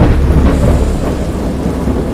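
A thunderstorm rages in the video game Dagon, with a loud continuous low rumble of thunder and heavy rain washing over everything, close and unbroken.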